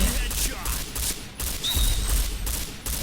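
Rapid bursts of P90 submachine gun fire in a first-person shooter game, several sustained volleys with short gaps between them, loud and close, with a faint voice underneath.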